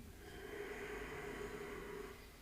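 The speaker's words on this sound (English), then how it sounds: "ocean breath, ujjayi breath, making that gentle, subtle sound in the throat while breathing" A soft, hushed breath drawn through a constricted throat, producing a gentle ocean-like rasp that swells and fades once, quiet and close.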